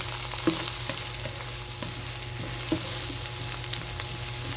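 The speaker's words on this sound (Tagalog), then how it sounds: "halu-haluin lang natin hanggang lumambot ang ating mga sangkap" Tomatoes and other ingredients fry with a constant close sizzle in a pan for ginataang tilapia, while a utensil stirs them with scattered light scraping taps.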